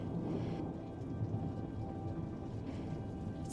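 A thunderstorm with rain gives a soft, steady hiss of falling rain and a low rumbling undertone, heard faint and distant throughout with no voices.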